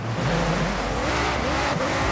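A Ford GT in the Forza Horizon 5 racing game accelerates hard from a standing start, its engine note rising steadily and loud, close by, with no voices over it.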